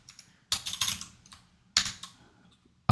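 Quick keystrokes on a computer keyboard while entering a function in Excel, heard as close, crisp clusters of clicks in a few short bursts separated by brief pauses.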